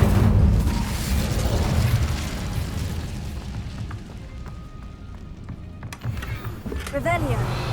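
Incendio fire spell in Hogwarts Legacy: a loud whooshing burst of flame with rumbling booms at the start, fading into a quieter crackle, followed by a sharp magical pop and shimmering tones near the end.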